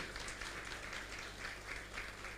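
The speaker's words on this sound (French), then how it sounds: "Est-ce qu'on peut applaudir très fort, s'il vous plaît?" An audience at a foundation's official launch ceremony applauds in a continuous wash of clapping, uniform and sustained with no talking on top.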